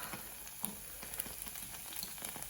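Vegan bacon slices sizzle in a frying pan, a steady close crackle with small pops and light scraping, no voices.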